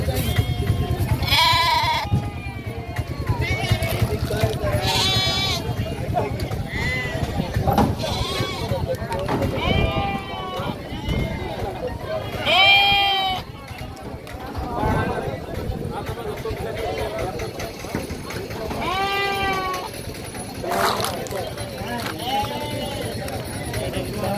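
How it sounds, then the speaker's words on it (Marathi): Several goats bleat repeatedly and overlap inside a crowded vehicle at a goat and sheep market in Bhigwan, with people talking and shuffling hooves underneath. "तुम्ही पाहू शकता गाडीमध्ये थंड बकरी भरले"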